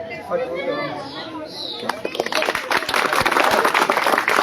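Audience at a village gathering for Dr. Bhimrao Ambedkar's birth anniversary breaks into loud, dense clapping that builds after a quieter stretch of crowd murmur and children's voices, then continues steadily close by.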